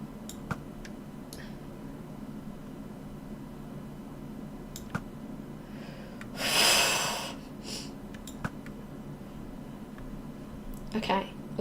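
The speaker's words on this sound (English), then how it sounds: "Okay, just quickly blow my nose." A person gives one forceful, breathy nose blow that lasts about a second, set against a quiet background of faint clicks and a low hum.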